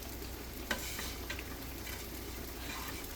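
Tempering sizzles and crackles in a hot pan while bitter gourd curry is cooked, a steady faint fry with a few sharp pops and spoon stirs, heard close without talk.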